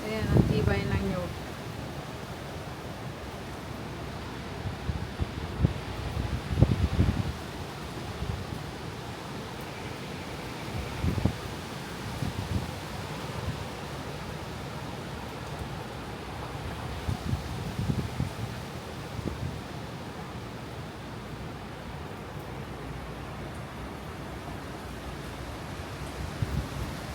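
Strong typhoon wind during a storm, a constant rushing roar with gusty swells and rustling, captured close to the microphone while people talk over it intermittently.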